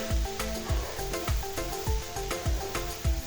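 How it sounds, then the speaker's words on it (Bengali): Shrimp with beans, potatoes and radish frying in a pan, a steady loud sizzle broken by rhythmic scraping knocks of a spatula stirring the mix, with no talking. "এভাবে শুকনো করে ভাজিটা একটু নেড়ে চেড়ে নিতে হবে।"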